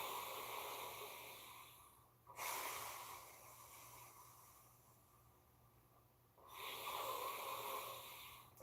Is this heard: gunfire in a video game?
no